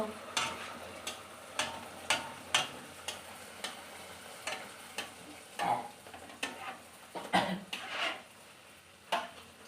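Oil sizzles steadily as kachori fry, broken by repeated sharp scrapes and clinks of a utensil stirring in the pan.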